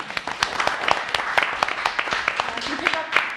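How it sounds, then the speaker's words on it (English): Applause at a town board meeting in Amenia for a local group that won a Grand Champion Award, heard as a modest scatter of hand claps close by with background murmur. "I'd like to give them an applause"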